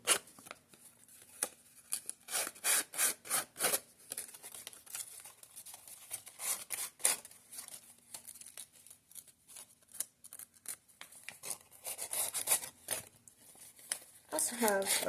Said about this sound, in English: I'm just sanding the edges just so they kind of match what's happening